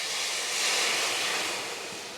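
Balsamic vinegar hits a hot pan to deglaze it, letting out a loud, steady, broadband sizzle and hiss that holds strongly throughout without any voice.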